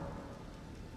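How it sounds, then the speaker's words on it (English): Steady rain falls in Limgrave in the Elden Ring video game, a constant soft hiss of raindrops that is dense and even throughout, quiet and with no voices. "It's a rainy day."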